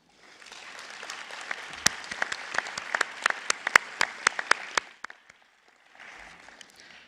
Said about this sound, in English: please show your thanks and appreciation for your own support networks with a round of applause